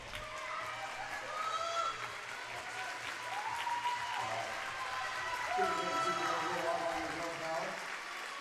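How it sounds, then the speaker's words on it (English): Crowd applause at a junior roller derby match, steady clapping and cheering sustained throughout at moderate distance, with a voice speaking faintly over it near the end. "Bit of applause there for Bread Pool"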